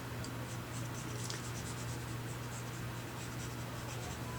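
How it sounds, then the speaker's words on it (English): An Inktense pencil sketches a leaf on paper, close and soft, with a steady run of light scratchy strokes over a constant low background hum. "I'm just sketching out a leaf, kind of real sketchy"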